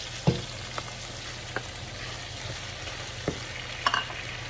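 Tomato frying in a pot as it is stirred, for a mutton pulao: a soft, steady sizzle runs throughout, broken by a handful of sharp spoon scrapes and clicks, all close and fairly quiet with no talking.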